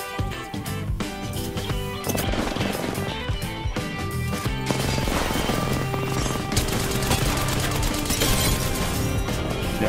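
Rapid gunfire from a weapon in the battle royale game Apex Legends, dense sustained bursts of shots layered over loud game music and effects, continuing nonstop for the whole stretch.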